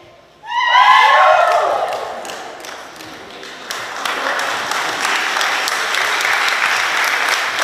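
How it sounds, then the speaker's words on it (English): At a Micronesia Expo cultural day for Kosrae, a performance ends in sung or cheered voices that give way to a growing round of audience applause, clapping steady and moderately loud to the end. "Please, another round of applause, please."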